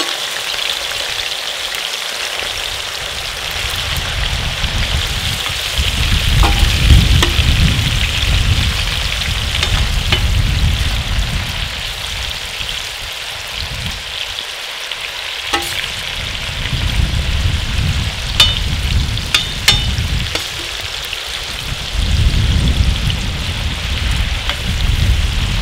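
Heart pieces frying hard in a hot pan for the dish jiz-byz, a dense, steady sizzle and crackle with occasional sharper pops, loud and close throughout with no talking.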